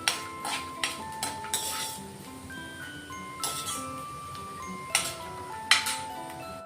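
Roasted peanuts rattle and scrape in a pan as they are stirred and scooped out, with sharp clinks against the metal over quiet background music.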